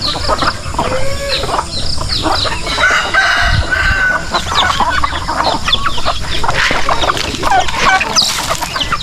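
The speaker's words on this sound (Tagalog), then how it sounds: "Binibigyan natin pakain dito sa mga manok." A dense chorus of chickens clucking continuously up close as they are fed yellow corn on a farm, with a rooster crowing partway through; no talking.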